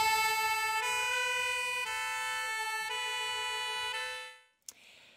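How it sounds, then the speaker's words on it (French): A fire engine siren blares loud and steady with a strong harmonic wail for about four seconds, then cuts off abruptly, leaving a brief faint tail of background noise. "fascinés par le célèbre bruit de la sirène"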